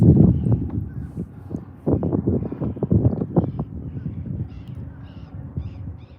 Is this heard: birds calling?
yes